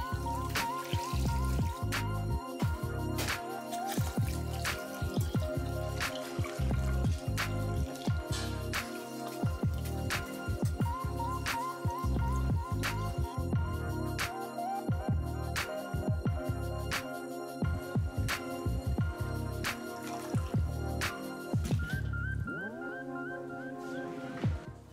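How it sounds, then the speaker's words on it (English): Dried, salted goose being rinsed under warm water in a kitchen sink, with steady trickling and splashing, repeated drips and knocks of the bird against the basin, close and continuous with no talk. "Since the goose is dried and salty, it needs to be washed with warm water."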